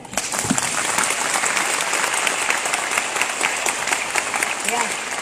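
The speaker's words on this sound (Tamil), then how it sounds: "இது வந்து எல்லோரும் கைத்தட்டுங்க" A large crowd applauds at a New Year celebration, dense sustained clapping that runs loud and even from start to finish, with some voices mixed faintly underneath.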